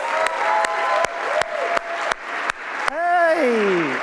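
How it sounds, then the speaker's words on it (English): An audience applauds with a steady patter of claps, joined near the end by a few voices talking over the fading applause. "please can everyone give a warm round of applause"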